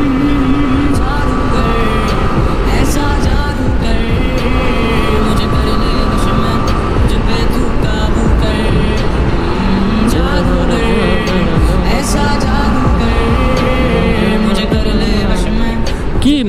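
A sports motorcycle accelerating on an expressway at night: a loud, sustained engine drone that rises in pitch, with constant wind rush, while the rider keeps talking over it.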